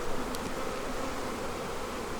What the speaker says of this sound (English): I've got Crynock bees all over my pants